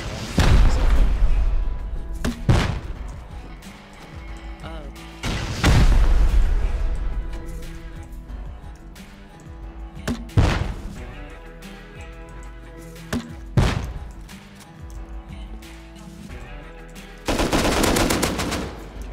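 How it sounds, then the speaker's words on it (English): Gunfire rings out in the survival game Rust, with loud bursts and rapid automatic volleys spread across the stretch, separated by quieter gaps and echoing booms. "I'm gonna shoot this guy."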